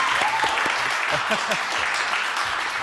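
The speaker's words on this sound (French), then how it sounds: "je vous propose d'applaudir à tout rompre Gilles Paris. On l'applaudit" Studio audience applause for a guest on a French television talk show, a dense steady clapping that fills the whole stretch, with a few voices calling out over it.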